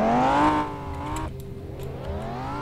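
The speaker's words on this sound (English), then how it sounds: "I have a supercharger, that's why it sounds weird." A supercharged Lamborghini Huracan in the Roblox game Driving Empire whines loudly up through its revs, drops off sharply, then climbs again, a tonal engine sound close and alone without talking.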